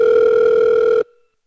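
A telephone ringback tone on a recorded call to an AI call center plays as one loud, steady tone for about a second, then cuts off into silence.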